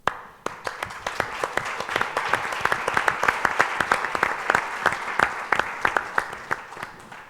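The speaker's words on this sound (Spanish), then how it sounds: "al que yo despediría con un aplauso" Auditorium audience at a panel on measuring poverty and inequality breaks into applause, a sudden start followed by steady, dense clapping from many hands that carries on without speech.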